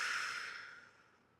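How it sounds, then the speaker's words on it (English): One long, soft exhale through the nose during a morning yoga flow, close and breathy, fading gradually over about a second, with no talking. "And full free breath out on your exhale."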